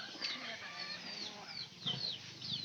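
Hen clucking in short repeated calls amid other chickens and bird chirps on a home poultry setup, with faint voices in the background.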